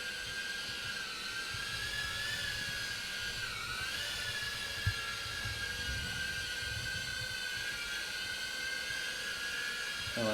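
A Holy Stone HS420 mini drone flying nearby, its rotors giving a steady high-pitched whine that rises and dips slightly around a small bump, constant and fairly loud with no voices.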